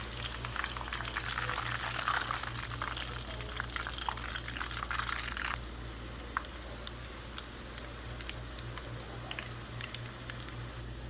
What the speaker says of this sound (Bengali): আমি এখন অল্প অল্প করে আলুটাকে ভালোভাবে ভেজে নেব।